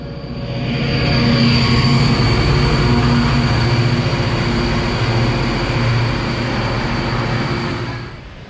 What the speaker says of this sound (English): they were making room for a train that was going up the mountain in the opposite direction